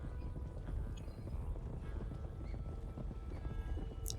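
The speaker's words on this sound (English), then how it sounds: "Beautiful horse." Hooves of a Missouri Fox Trotter horse clip-clop steadily in a video game, a continuous busy gait with a possible brief whinny over a dense background of game ambience.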